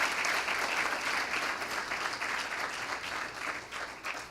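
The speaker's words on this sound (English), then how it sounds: "Let us give them a round of applause" An audience gives a round of applause at a bursary scholars' awards ceremony, with steady full clapping from many people that fades slightly toward the end.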